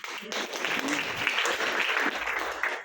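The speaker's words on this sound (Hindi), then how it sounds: "इसलिए परमेश्वर को जोर से ताली दीजिए" A church congregation claps loudly and steadily, a dense burst of many hands close by, sustained throughout with only faint voices mixed in.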